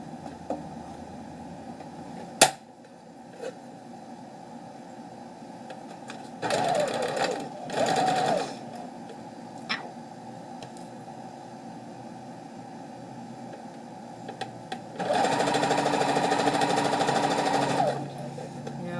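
A sewing machine stitching in short bursts of fast, buzzing motor whir, close by, with a longer run near the end and quiet pauses and small clicks between.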